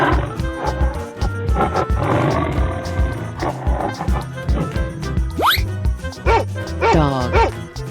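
A tiger roars in an animal guessing game, the growling calls mixed into loud, continuous background music with sliding sound effects.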